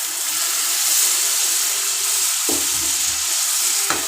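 Whisked yogurt goes into a pan where a katla fish head is frying in oil, giving a steady, bright hissing sizzle with a couple of soft stirring knocks and bursts of spatter.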